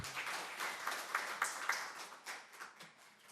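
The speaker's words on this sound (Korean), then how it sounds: "박수 한번 쳐주시죠." A room full of people at a policy forum applauding steadily for a few seconds, dense clapping that gradually thins out.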